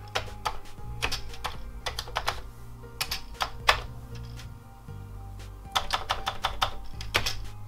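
Typing on a Commodore 64 keyboard with a sticky spacebar, irregular bursts of close, clacky keystrokes with short pauses between runs.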